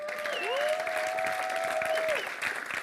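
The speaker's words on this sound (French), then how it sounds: "Est-ce qu'on peut maintenant applaudir Jésus?" A church congregation applauds Jesus during a Sunday service: a steady, dense wash of clapping with a sustained tone or voice running through it, easing slightly at the end.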